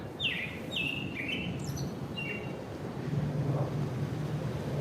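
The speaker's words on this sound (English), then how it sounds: "That's a beautiful bird call." Several clear bird calls ring out outdoors on a morning walk in Annapolis, Maryland: a series of bright, sliding whistled notes repeated in short bursts over steady low rumbling background noise, moderately near.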